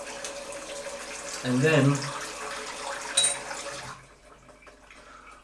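Water from a tap runs over a Futur DE safety razor blade being rinsed, a close splashing stream that swells briefly, then cuts off; someone speaks briefly over it.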